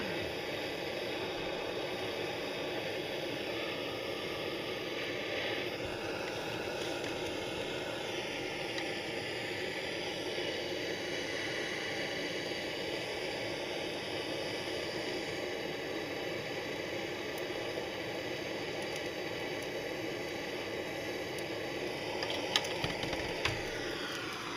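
A torch flame heats the end of an old tip-up spool during relubrication, a steady roaring hiss holding constant throughout, close and fairly loud, with a few faint clicks near the end.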